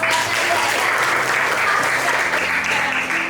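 Steady applause from a classroom of students during a lesson, continuous dense clapping at an even level throughout, with faint voices mixed underneath.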